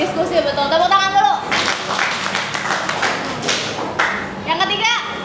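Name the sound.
classroom children clapping hands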